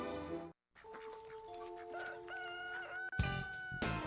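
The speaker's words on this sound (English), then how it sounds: "Over here at the chicken coop, man. Man, I love chickens, man." Chickens clucking and a rooster crowing at a chicken coop, the drawn-out crow loud and close over a brief gap, with more bursts of squawking at the end.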